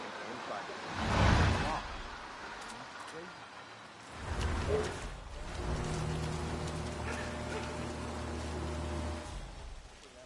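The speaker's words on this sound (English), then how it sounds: "Rain, rain, nothing but rain." Steady rain falls in a PS4 video game, a broad hiss with a couple of louder swells, while voices talk over it.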